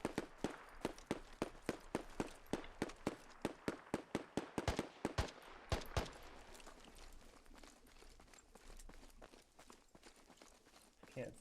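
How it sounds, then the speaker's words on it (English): Rapid volleys of gunfire from another player in the military shooter Squad, sharp repeated cracks in quick bursts for the first six seconds, then quieter rustling and distant activity. "I hear somebody shooting my left"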